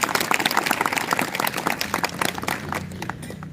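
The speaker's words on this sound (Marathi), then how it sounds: "जोरदार टाळ्याने आपण स्वागत करूया" An audience at a health talk by a doctor claps to welcome the guests on stage: a dense, lively wash of many hands clapping that holds steady and then thins out toward the end.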